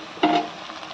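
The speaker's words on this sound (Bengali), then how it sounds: "দিয়ে এটা একটু নেড়ে চেড়ে তারপর মাংসটা দেবো।" A spatula scrapes and clatters briefly through half-fried onion and chopped tomato in a kadai over a faint, steady sizzle. The single short burst is close and carries no speech.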